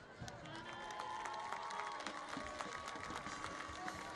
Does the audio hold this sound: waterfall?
no